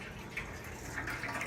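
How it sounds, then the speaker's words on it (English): Water trickling steadily into a homebrew mash tun while sparging a dark strong ale, a soft continuous flowing wash with faint splashy bubbling, quiet and close. "Sparging has started."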